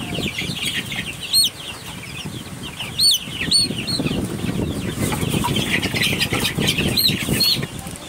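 Young chicks that have just been vaccinated cheep in repeated high peeps over a steady farmyard rustle. Some wing flapping and soft clucking come through, and the birds sound close and fairly loud throughout.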